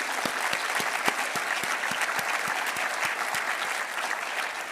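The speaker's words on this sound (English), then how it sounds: "Let's give all of our student athletes a round of applause." Steady applause from a university audience honoring student athletes at a State of the University address, dense clapping filling the hall throughout without a break.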